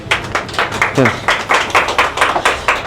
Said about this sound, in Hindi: इस बात के लिए ताली हो जाए